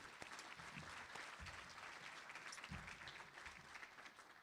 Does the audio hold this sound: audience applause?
yes